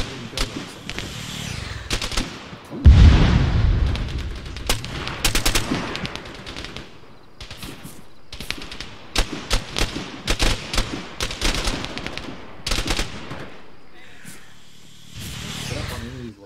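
Arma 3 combat gunfire: repeated rifle and machine-gun bursts throughout, with one heavy, loud blast near the start, under men's radio chatter.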